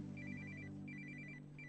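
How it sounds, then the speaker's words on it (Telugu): A telephone rings in repeated double-burst trills, two clear rings separated by a pause and a third starting, heard over a low room hum with no talk. "father phone ring"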